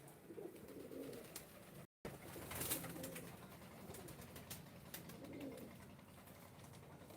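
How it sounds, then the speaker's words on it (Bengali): Soft, low pigeon coos rise a couple of times over a quiet background hum, with faint clicks and rustles between them. "খুবই সুন্দর লাগে দেখতে রোজ পায়রা আসে তো এই ঘরটা শুধুমাত্র পায়রাদের জন্যই"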